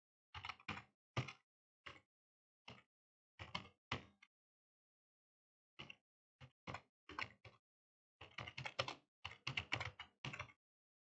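Someone types a Linux command on a computer keyboard while configuring an SSH server, giving sparse bursts of crisp key clicks separated by silent pauses, quiet and near with no voices.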